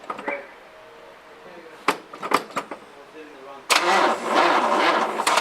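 A 1964 Rambler car engine cranks with a few uneven bursts, then catches and starts running loudly up close, with people talking nearby.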